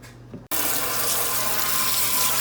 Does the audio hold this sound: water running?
yes